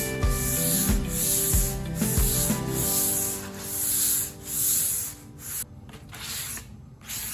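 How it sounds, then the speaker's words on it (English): Sanding an antique wooden chest with 240 grit sandpaper: a steady, close abrasive rubbing with a few sharp thumps early on, then continuing softer scraping strokes in the quiet. "I went over everything with a 240 grit sandpaper just to smooth out any raised grain."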